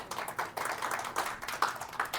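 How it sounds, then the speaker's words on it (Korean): Scattered hand claps from a small seminar audience, uneven and modest in volume, rising in a few brief bursts rather than a full ovation, with no talking over them. "박수 한번 주시죠."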